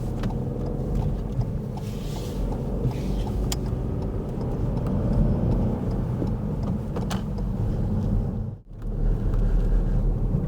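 A car drives along countryside roads during a mock driving test, its engine and tyre rumble a steady, loud drone from inside the cabin, with a brief dip near the end and no talking.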